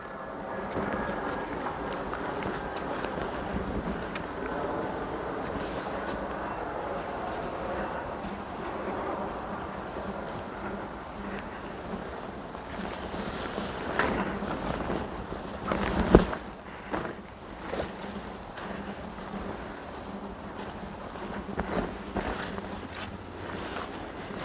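Wind blows steadily across a garden in a continuous rumbling roar with microphone buffeting, and a few sharp knocks and rustles partway through.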